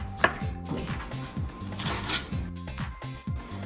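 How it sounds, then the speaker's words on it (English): Jhingee chopped into chunks with a knife on a board, a quick run of close, even knocks against a busy kitchen background, no talk. "Just cut them into chunks."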